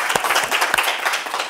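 Audience applause at a Korean lecture on the Tao Te Ching, a steady patter of many clapping hands, close and moderately loud for a brief moment.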